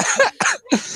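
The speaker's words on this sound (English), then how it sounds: "No, I just have a very small cough." A person coughs in three short, harsh bursts close by, each one quick and breathy, with brief gaps between them, recorded indoors during a casual podcast chat.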